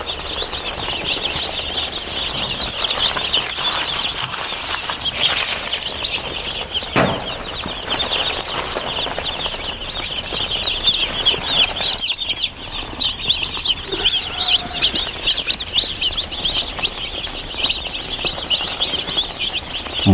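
Broiler chicks newly placed in a brooder keep up a dense, continuous chorus of shrill peeping close by, with occasional soft rustles and bumps underneath.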